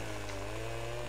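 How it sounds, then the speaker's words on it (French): Chainsaw in the Farming Simulator video game, a steady, loud engine drone with a constant pitch, running alone without a break. "si vous avez des bugs de son avec la tronçonneuse, c'est normal"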